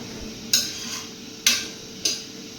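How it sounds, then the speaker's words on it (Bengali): Lentils (pappa) with turmeric are stirred in a cooking pot, with three sharp metallic scrapes of the spoon against the pot over a low, steady background hiss. "তারপরে একটু ভালো করে লাড়াচাড়া দিতে হইব।"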